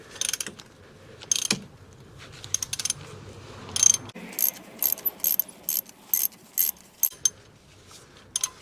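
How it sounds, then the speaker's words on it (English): A 1/2-inch ratchet undoes a bolt on a BMW during routine maintenance at about 80K miles. Sharp clicking bursts and ratchet strokes come close and clear, spaced irregularly with brief pauses between turns, with no talk. "So I got my 1/2-inch ratchet. Make sure you grab it and then undo it."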